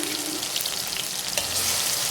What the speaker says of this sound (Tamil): வெங்காய விழுதை சேர்த்து கொஞ்சம் இந்த எண்ணெயில் நல்லா கிளறி விட்டுக்குங்க.